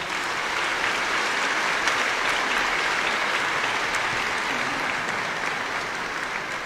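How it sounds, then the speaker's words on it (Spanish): Steady, dense applause from a church congregation at a patronal feast for Saint John the Baptist, a broad even clatter of clapping filling the whole stretch without voices. "un aplauso a Monseñor Morao."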